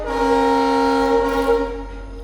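A long, loud train horn blares steadily nearby a railway station, tonal and sustained, then fades away.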